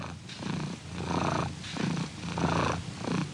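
A cat purrs up close, a low rumbling vibration that swells and fades with each breath in a slow, even rhythm.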